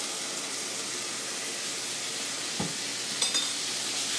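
Minced garlic sizzling in a hot pan for Cajun shrimp Florentine, a steady soft hiss and crackle throughout with a brief clatter near the end, no voices.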